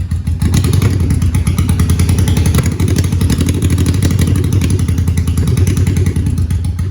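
A 1985 Honda Shadow 750 motorcycle engine running on only one cylinder, a loud, close, uneven chugging idle with rough thumping pulses throughout.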